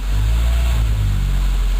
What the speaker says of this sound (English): have somebody sit here and rev the engine at about 1500 RPMs